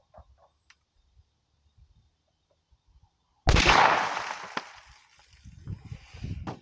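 A .380 pistol fires an all-copper hollow-point bullet through a car windshield: one sharp, loud close shot bursts out of near silence and rings down over a couple of seconds, followed by low rustling movement.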